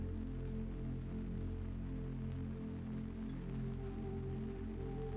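Even, continuous rainfall hissing softly over a calm, humming background tone, with no voices and little change throughout.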